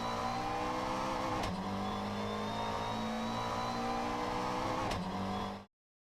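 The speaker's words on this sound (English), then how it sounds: "I especially like the raspy sound of this motor and the clack the car does when you change gears" Raspy NSU TTS engine in a racing video game, a steady loud buzzing drone with two sharp clacks from gear changes, holding a near-constant pitch before cutting off abruptly.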